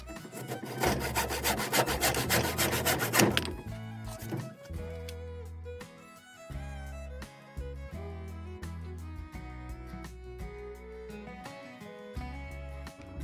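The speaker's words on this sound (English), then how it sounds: "then I'm finishing this up with a handsaw." Handsaw cutting through wood while building the roof trusses of a chicken coop, a dense rapid rasp of back-and-forth strokes up close, then steadier intermittent sawing with a tonal ring.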